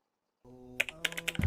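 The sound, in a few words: typing a search into Google on a keyboard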